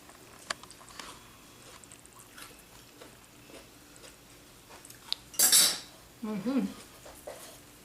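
Cutlery scraping and clinking against a dish while tasting a quinoa apple salad, faint scattered clicks then a louder clatter, followed by soft chewing and a short murmured sound.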